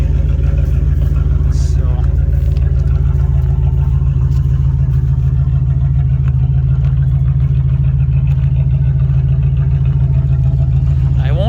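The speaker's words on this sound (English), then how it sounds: "she sounds a little loud because there's no mufflers yet." A 1984 Hurst/Olds V8 with its mufflers cut off runs with a loud, deep, steady exhaust rumble throughout, and a voice talks over the engine.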